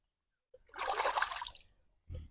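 Crab legs used as bait are swished by hand through water, a close, brief watery swishing lasting about a second, followed by a short soft knock.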